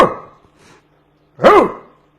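A human voice imitates a miserable-sounding dog, giving a brief yelp followed by one louder, rising-and-falling howling bark with a short pause between.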